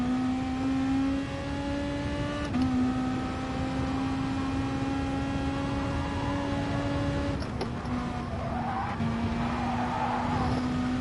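A race car in Gran Turismo Sport brakes late, its engine holding a steady droning tone while the tires skid and squeal briefly, loud and continuous throughout.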